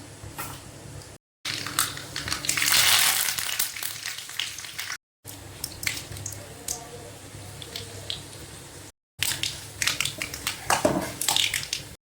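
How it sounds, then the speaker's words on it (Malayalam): Crackling pops and spits of mustard seeds in hot oil, loud and close, with sharp bursts scattered throughout and a few brief gaps. "കടുക് പൊട്ടിക്കൊണ്ടിരിക്കുന്നു"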